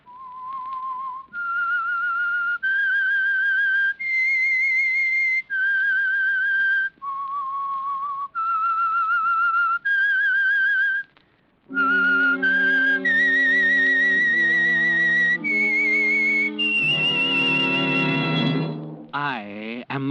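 A lone whistler carries a slow melodic tune in clear sustained notes, the opening of a 1948 radio drama, followed by a richer, louder orchestral swell with sliding tones at the end.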